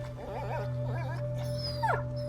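A dying dog whimpers in A Plague Tale: Innocence, with a few wavering high whines and yelps over a steady low game hum, fairly close and clear.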